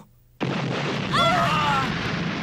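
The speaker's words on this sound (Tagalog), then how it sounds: "Si Ana! Sumabog!" An anime explosion bursts in suddenly after a moment of silence, a loud sustained roar with a brief whistling, wavering tone riding on top before it slowly eases.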